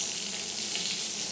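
Warm tap water runs steadily into a sink or tub for a capuchin monkey's bath, a continuous broadband hiss with no pauses, moderately close.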